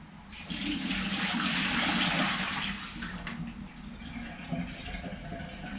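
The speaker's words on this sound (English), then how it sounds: "it seems like my water has boiled, so let's empty this out" Boiled water being poured out in a home kitchen on a rainy day, a steady close splashing gush that builds for a couple of seconds then eases into a lighter trickling pour.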